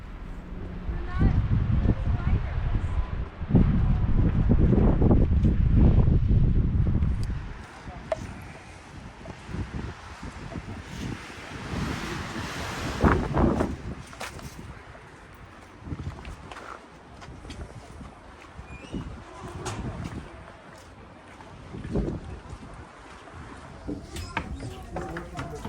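Strong gusting wind buffets the microphone on a high balcony of a 1914 Grand Canyon lookout at about 8,000 feet, heaviest low rumble in the first seconds, then uneven gusts and footsteps with people talking over it.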